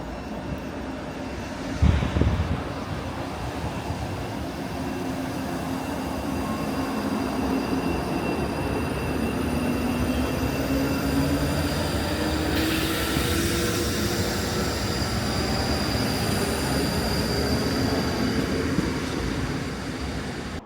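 A train rumbles through Duke Street station in Glasgow, a loud, steady, close roar of wheels and engine with a rising whine, sustained for the whole stretch and heard without any talking.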